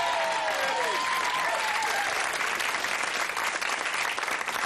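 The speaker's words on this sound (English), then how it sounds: "Give him a round of applause" Warm, steady applause from a television game show studio audience, loud and unbroken, with a brief voice faintly heard early on.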